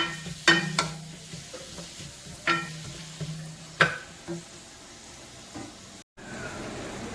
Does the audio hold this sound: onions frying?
yes